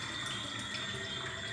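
A tap runs in a steady, unbroken hiss into a sink while turkey necks are washed before being cooked in curry.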